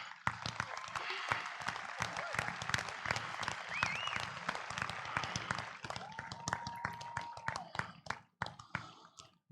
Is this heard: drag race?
no